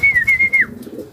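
A racing pigeon gives a short, close coo, a single clear call lasting about half a second that slides downward at the end, with faint background noise after it.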